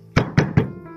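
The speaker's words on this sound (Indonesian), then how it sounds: "Malam itu bulekku menggedor-gedor pintu secara keras" Hard pounding on a door at night, three heavy, evenly spaced thuds, loud and close, with nothing else sounding between the blows.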